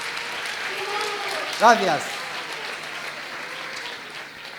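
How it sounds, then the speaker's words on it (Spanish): An audience applauds after a magic card trick at a gala event, with steady clapping running throughout under a voice speaking briefly near the middle. "Fuerte el aplauso para Carlos, para Nieves."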